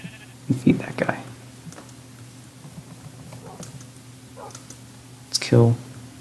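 Minecraft sheep bleating in-game during a UHC survival match, two short bleats, one near the start and a louder one near the end, over a steady background hum with quiet game sounds between them.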